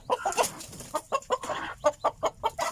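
Native chickens cluck inside a coop: a close run of short, sharp clucks about every quarter second, loud and clear with no talk.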